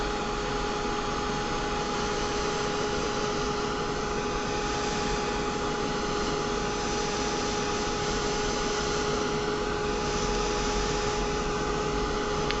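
A heat tool drying stamped ink on craft paper: a steady, loud, unbroken whirring blower hum with a constant tonal whine, running alone throughout without pause.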